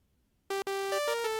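Bitwig Polymer synthesizer patch running through a Freq Split device: a bright, harmonically rich buzzy tone starts abruptly, drops out for an instant, then resumes and shifts pitch a few times, close and clear with no talk.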